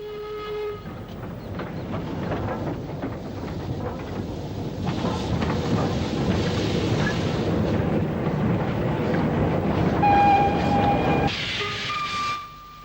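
Two steam freight locomotives, a 7F 0-8-0 and an 8F 2-8-0, double-head a goods train out of the Midland Yard at Walsall, a broad rumbling roar building steadily, with a whistle near the end.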